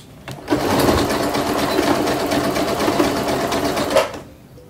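A domestic sewing machine runs steadily for about three and a half seconds, stitching a zigzag seam on a homemade hair topper, with a loud continuous mechanical whir and rhythmic needle clatter, then stops.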